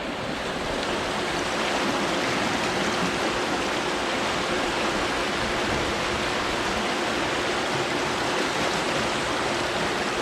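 Continuous rushing water, a steady broadband wash like a flowing creek, close and even throughout with no voices.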